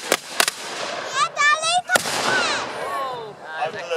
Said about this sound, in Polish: Wszystko jest ciągle pod ostrzałem armat.